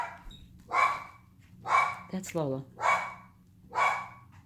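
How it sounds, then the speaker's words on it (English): A dog barks four times in a steady rhythm, each bark sharp and close. A voice speaks briefly between the second and third barks. "She only barks, literally, and this is weird, if a family member shows up"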